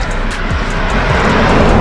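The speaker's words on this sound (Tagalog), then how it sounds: "Sasakyan na yun." A car passes on a steep uphill road near Fukuyama Family Park in Hiroshima, Japan, its engine roar loud and close and swelling briefly under wind noise, with no talking.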